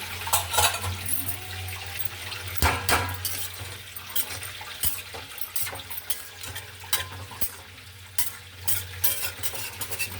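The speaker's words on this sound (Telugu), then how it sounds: "అందుకే నేను వాటర్ వేసి ఉడికించేస్తున్నాను" Food simmers in water in a pan on the stove while a utensil stirs it, producing repeated close scraping and clattering strokes over a low steady bubbling hiss, with no talking.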